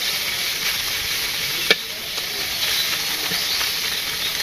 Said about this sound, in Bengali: মাছও প্রায় ভাজি হয়ে গেছে